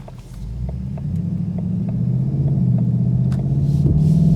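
A 2021 Ford Mustang Mach 1 with a 10-speed automatic pulling away under moderate throttle, its engine a deep steady rumble rising gradually in pitch and loudness, heard from inside the car.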